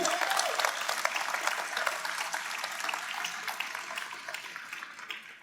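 A round of applause from the audience at a library commons ribbon-cutting celebration, steady dense clapping that fades gradually over several seconds with no talk over it.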